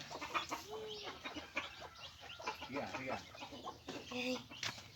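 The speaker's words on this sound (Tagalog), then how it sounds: "Nagpapakain tayo ng manok guys." Hens cluck and squawk as they are fed corn, against a busy background of rustling and faint voices, with scattered bird calls throughout.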